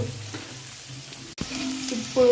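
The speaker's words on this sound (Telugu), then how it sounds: "సిమ్లో పెట్టుకొని వేయించుకుందాం" Onions fry in oil in a pan over a low flame, giving off a close, continuous sizzle with a brief break partway through and a slightly louder stretch at the end.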